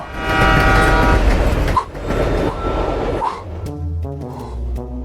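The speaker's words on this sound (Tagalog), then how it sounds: "Parang may dumarating na tren. Naku, hindi! Papunta ito rito!" A train rumbles past loudly with a rushing roar, then a horn sounds in long, steady tones as the noise fades.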